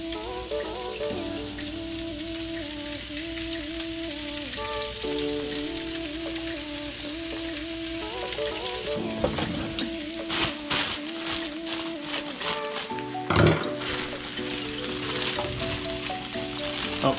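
Rice noodles sizzle and crackle steadily in hot oil while being fried for char kway teow in a home kitchen without a wok, with a few louder clatters partway through and no talking.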